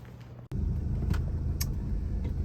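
A 1990 Volvo 240 wagon engine, revived after sitting abandoned, catches and settles into a steady low idle rumble after a brief cranking moment, close and continuous throughout.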